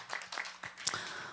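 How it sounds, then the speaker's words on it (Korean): A Christmas church congregation claps in a few distinct bursts, loose and slightly uneven, with a brief sharper accent near the end, fairly close and moderately loud. "우리 영광의 박수 한번 올려드리겠습니다"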